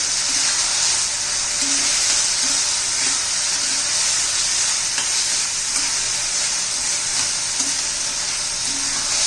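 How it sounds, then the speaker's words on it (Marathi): Ground paste of coriander, curry leaves, ginger, garlic and green chillies sautéing for a cluster bean curry, a loud steady sizzle and hiss filling the whole stretch with faint stirring taps underneath. "याचं वाटण करून घेतलेलं आहे छान असं परतून घ्यायचं"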